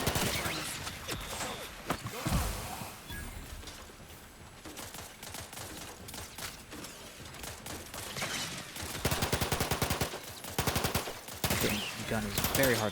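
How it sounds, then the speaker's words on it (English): Rapid gunfire from a hard-to-control weapon in The Outer Worlds 2, loud bursts of rattling shots in uneven clusters with a few pauses, layered over game combat noise. "This gun's a little bit hard to control."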